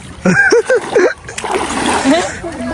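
Voices shout briefly, then a loud splash into a stream in Kozhikode breaks out and settles into churning, sloshing water with more talk over it.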